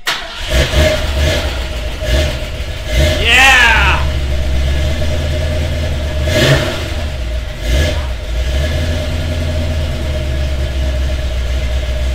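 A car engine cranks and catches, then revs a few times before settling into a steady, loud idle rumble close by.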